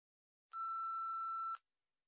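An answering machine gives a single steady electronic beep about one second long before a voicemail message, clean and isolated in silence.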